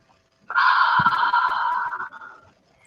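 Single slow breath drawn in through the nose, a steady airy hiss lasting about two seconds, close and fairly loud, with no talking.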